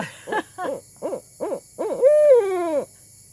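An owl gives a series of five short, evenly spaced hoots, followed by a longer, drawn-out wavering hoot, close and clear.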